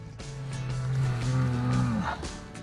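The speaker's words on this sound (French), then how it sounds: "600 kilos au bas mot et une douce voix de taureau" A bull of about 600 kilos lows once in a long, deep, steady bellow that rises slightly before cutting off, close and loud against faint outdoor background.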